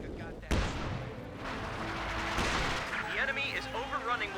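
Mortar blasts and gunfire in the World War II strategy game Company of Heroes 2, sharp explosive bangs over a continuous battlefield rumble with scattered shots, while a voice talks over the action.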